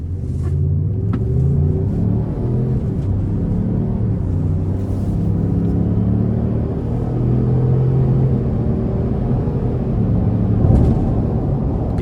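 A 2025 Lincoln Navigator Black Label pulls away under moderate throttle, a steady low engine rumble and road drone building smoothly inside the cabin, with no voices.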